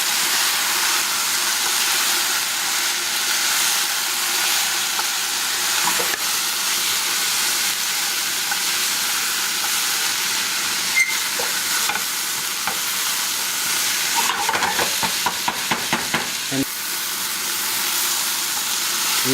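Carrots and freshly grated coconut stir-fry in a pan, a continuous loud hiss and sizzle close up, with a brief burst of quick scraping and clatter near the end and no voices.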